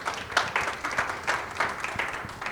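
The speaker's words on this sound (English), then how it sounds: "Go ahead and clap for him." A conference audience gives a modest round of clapping, uneven and fairly quiet, from a moderate-sized crowd in a hall, with no clear talk.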